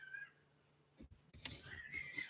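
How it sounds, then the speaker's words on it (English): Cats fight with a short burst of yowls and hisses followed by a louder, harsher caterwaul, heard faintly at a distance. "I got a cat fight to bring up"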